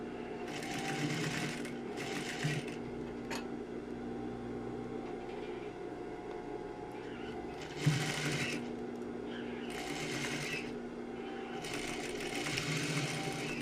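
A sewing machine stitches a seam in a pair of shorts, running in several steady bursts separated by short pauses, close and clear with a constant background hum.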